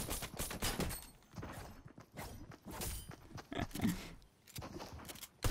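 Gunfire in the video game Fortnite, quiet bursts of rapid shots and clattering footsteps in irregular clusters, fairly faint and mostly free of talk.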